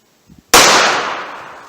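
A single sharp, loud gunshot from a Winchester Super-X Silvertip 125-grain .38 Special +P cartridge fires close by, its blast decaying over a second and a half after a couple of faint clicks.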